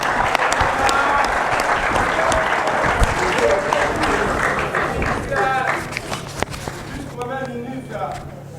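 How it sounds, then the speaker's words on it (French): A crowd at a political speech in Congo breaks into loud, sustained applause, dense clapping that carries on for several seconds before thinning out near the end. "On peut applaudir."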